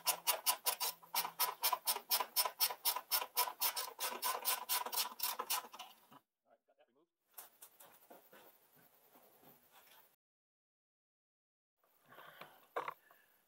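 Bolt being removed from a side panel of a Yamaha XT250 motorcycle, heard as a fast, loud run of rhythmic ratcheting clicks for several seconds, then softer scraping and rattling with pauses.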